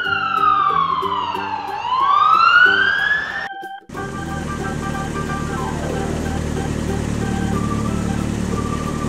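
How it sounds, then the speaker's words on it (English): A toy police car's siren wails in rising and falling sweeps, loud and close, then cuts off and gives way to a steady electronic tone pattern. "Black police car."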